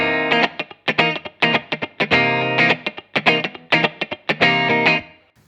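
Funk electric guitar plays short, choppy strummed chords in a tight syncopated rhythm, dry with a brief reverb tail so each stab cuts off cleanly; no talking.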